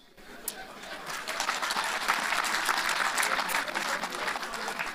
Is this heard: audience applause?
yes